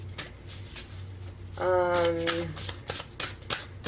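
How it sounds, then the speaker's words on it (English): A quick riffle of cards being shuffled, a short fluttering burst in the middle with soft handling taps around it. "And so now I'm just giving a quick shuffle now,"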